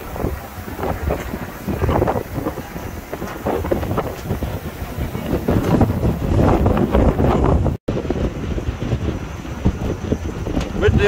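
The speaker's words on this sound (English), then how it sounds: "Windy up here." Strong wind buffets the microphone high up on a tall viewing structure, a loud continuous roar with gusty swells that carries on throughout, with only a brief break.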